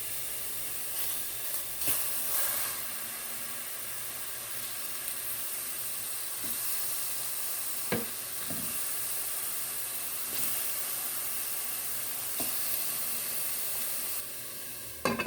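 Upside-down tangerine cake with caramelized sugar cooking in a covered pan over low heat, giving a steady, faint sizzling hiss throughout with a few soft clicks.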